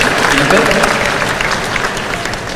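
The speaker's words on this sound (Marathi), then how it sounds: "आणि त्यांच्यासाठी जोरदार टाळ्या वाजवूयात का आपण?" An audience at a speaking event claps in dense, sustained applause, loud and close, fading slightly toward the end.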